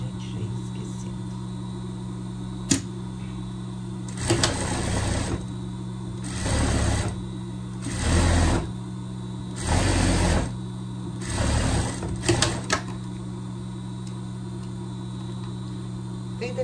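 A sewing machine stitches a hem on a pet dress in five short bursts of rapid mechanical whirring, separated by pauses filled with a low steady hum.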